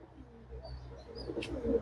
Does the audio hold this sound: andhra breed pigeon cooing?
yes